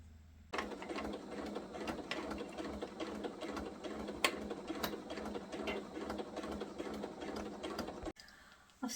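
Sewing machine stitching an owl-shaped fabric cushion through layers with heat-and-bond wing appliqués, a steady fast rattling hum running continuously for several seconds, close and clear, then stopping abruptly near the end with no talk.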